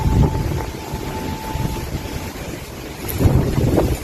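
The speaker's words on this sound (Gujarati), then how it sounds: "પવન મસ્ત ગાઈસ વાયરો એવો ને જબરજસ્ત વાયરો" Strong wind gusting outdoors near a hilltop temple site, roaring and buffeting the microphone in loud, rushing waves that swell and ease, with a brief faint tone early on and no talk.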